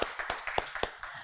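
A group of students claps to open a new batch, a handful of distinct claps in an uneven rhythm, thin and fairly faint as if heard from across a room.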